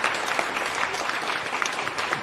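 A live crowd applauds steadily at a podcast taping in front of an audience, with dense, continuous clapping throughout and no pause in the sound.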